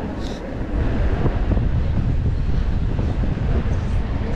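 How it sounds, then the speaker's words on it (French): Strong, icy wind buffets the microphone outdoors, a dense roaring rush that stays loud and close throughout without pause. "Oh, le vent qu'il y a!"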